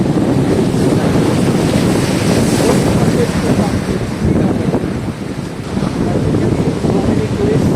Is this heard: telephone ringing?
no